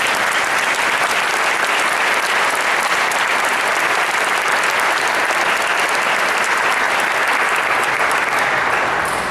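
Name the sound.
audience applause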